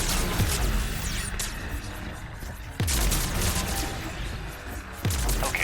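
Gunfire in Mass Effect 3: three loud, sharp shots spaced a few seconds apart, each with a booming low tail, over a steady wash of game ambience.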